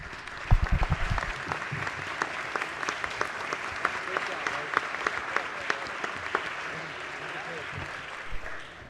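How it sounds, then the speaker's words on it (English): Applause on the floor of the Maryland House of Delegates, steady clapping filling the chamber with a louder burst near the start and faint background voices. "Let's please give him a round of applause."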